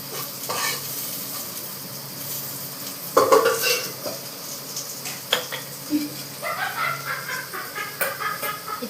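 Tempering (popu) for palak pappu sizzling in a pan, a steady close frying hiss with scattered crackles and pops, a louder burst of spattering partway through, and a few clinks of a spoon against the pan.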